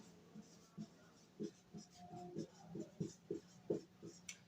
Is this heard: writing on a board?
yes